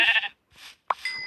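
Sheep in the Minecraft video game bleat in short, nasal cries, two quick calls followed by a third with a brief click, loud and close with no talking.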